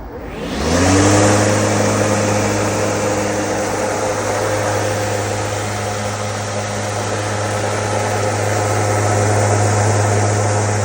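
An Italian cordless battery-powered mulching lawn mower spins up and runs at a steady whirring hum, loud and close, with no one talking.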